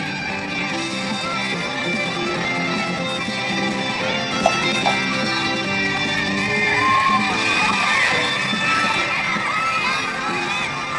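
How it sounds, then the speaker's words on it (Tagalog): A crowd at a job fair in Cavite shouts and cheers continuously, with children's high voices and whoops rising over a dense, steady roar of many people, swelling louder toward the end. "Hiyaw sila."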